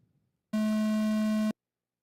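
A single loud, steady electronic race start tone sounds for about one second at a 1/8-scale electric off-road RC truck race, then stops abruptly, after a brief moment of faint noise.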